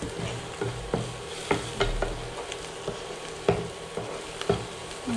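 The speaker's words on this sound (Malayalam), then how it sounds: "നന്നായി ഒന്ന് ഇളക്കി" Prawn masala sizzles in a pan as pepper and turmeric powder are stirred in, with repeated scraping and clacking strokes rising over a constant frying hiss, close and clear.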